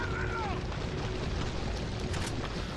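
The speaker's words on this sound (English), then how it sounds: "I'm just going to use another grenade" In Resident Evil 4, a grenade blast rumbles as a loud, sustained low roar with crackling debris throughout, dense and close, with no voices over it.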